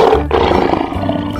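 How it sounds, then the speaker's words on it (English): A cartoon lion lets out a loud, close roar, a single deep growling blast that swells and then trails off, with no talking over it. "Lion."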